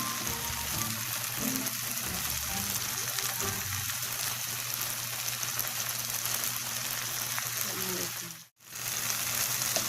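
Turmeric and spices fry in hot oil for an egg curry, a continuous close crackling sizzle with faint stirring taps, broken by one brief gap near the end.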